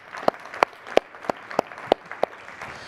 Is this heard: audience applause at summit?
yes